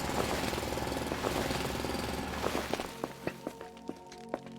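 Mechanical drilling in the first-person factory-building game Foundry: a steady, loud grinding hammer that cuts off near the end, leaving a few sharp clanks and thuds in a quieter stretch.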